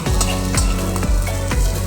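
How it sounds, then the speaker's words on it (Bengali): Chili and garlic fry in oil in a pan. A steady, close sizzle plays over a low background hum, with soft periodic stirring sounds. "দিয়ে প্রথমে আমি একটু ভাজা ভাজা করে"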